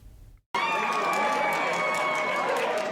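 Dense, steady crowd noise at an election night party for Wisconsin Supreme Court candidate Chris Taylor, a loud continuous roar of voices and cheering that bursts in after a brief silence and holds.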